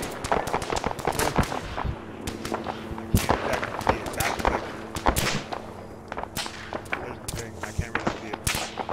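Incoming gunfire from the north in an Arma game on Tanoa rattles off in dense sharp cracks and bursts, near and loud, with repeated shots and short volleys throughout.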